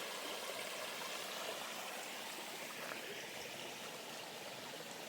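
A small stream of water at a trail camp spot in a forest notch along the Pinhoti Trail, a steady close rushing trickle that continues unbroken throughout.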